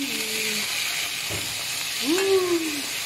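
Garlic and onion sauté in a pan, making a low continuous sizzle with a couple of short tonal scrapes from stirring, with no talking.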